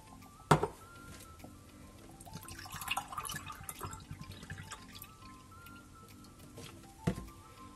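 Soy drink is poured from a glass into a baking dish for a bread-pudding made from leftover torrijas, heard as a brief splash, faint trickling and dripping, then a second short pour, fairly quiet and without voices.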